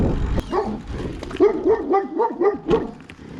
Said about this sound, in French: il y a le chien qui gueule